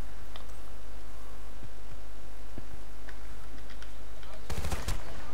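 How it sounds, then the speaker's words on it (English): Shotgun fire in Battlefield Bad Company 2, with a loud burst of close blasts near the end after a stretch of steady hum and scattered quieter distant shots. "Oh, it was the shotgun."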